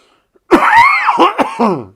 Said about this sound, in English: That cough comes from a genetic problem that I have within my family.